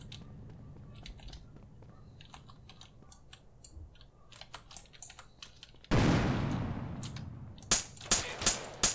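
Sharp keyboard clicks scattered throughout, then a burst of loud gunfire from an MTA battle royale match, with several distinct shots cracking near the end.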